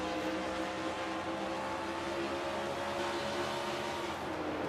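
On-board with Phil Parker's number 5 race car, a continuous high engine drone fills the cabin as the driver gradually gets back on the throttle, steady and loud with no talk.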